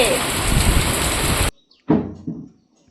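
A steady, dense hiss of rain falls for over a second before cutting off abruptly, followed by a brief knock or thump and a short fading sound.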